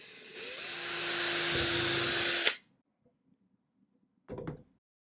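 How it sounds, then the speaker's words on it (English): A drill bores a hole through a small basswood ornament, a steady close whine running about two and a half seconds before cutting off, then a brief handling knock after a pause of silence. "so I'm going to start by drilling a hole in these."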